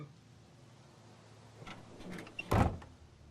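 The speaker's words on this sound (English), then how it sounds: "Close the door." A door shuts in The Walking Dead video game: soft shuffling and small scrapes lead into a short, solid thud of the door closing near the end.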